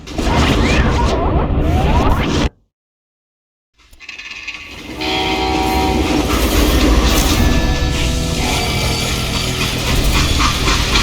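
A freight train in a Western shooter game rumbles and rattles loudly, with a brief drop to silence before the heavy rolling noise returns and continues steadily.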